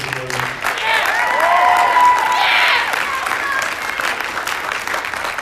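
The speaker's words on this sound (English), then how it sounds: "So can you give her a round of applause before she gets going?" Audience applause and cheering for a performer about to take the stage at a community jam fest, a steady wash of clapping that swells in the middle and then eases off, with a few voices mixed into the crowd.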